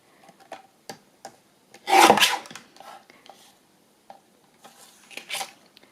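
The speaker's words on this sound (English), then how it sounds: "trim off this bit of the magazine that's just not quite been covered" Magazine collage paper is trimmed for a bird journal pocket. Faint scattered rustles and scrapes lead up to one loud, close rasping cut, followed by softer rubbing. There is no talk.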